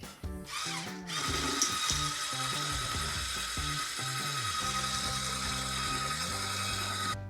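A mixer creaming light brown sugar for cookie dough, a loud, close motor whine that shifts pitch as it grinds steadily through the mixture for several seconds.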